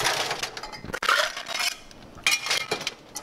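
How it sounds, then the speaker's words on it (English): Liquid and ice slosh between metal mixing tins as a cocktail is rolled back and forth, close clinks and rushing pours in a few uneven passes, with no talk. "I choose to roll my cocktail because I just want to bring some air in and get the cocktail more bit fluffy"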